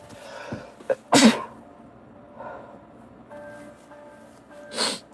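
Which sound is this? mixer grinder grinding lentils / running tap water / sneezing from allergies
sneezing from allergies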